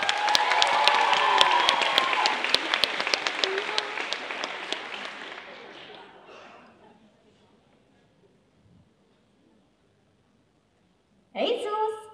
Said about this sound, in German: Kräftigen Applaus für Mabel und Dipper.